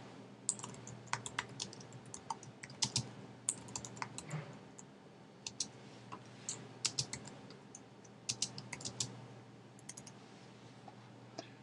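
Computer keyboard typing in a quiet room, with irregular bursts of soft, close key clicks and short pauses between them; no one speaks.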